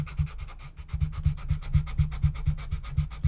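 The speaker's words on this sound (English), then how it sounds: "This is very fine sandpaper" Very fine sandpaper rubs over a watercolor painting in quick, even back-and-forth strokes, a close, rhythmic scratching that repeats many times without any speech.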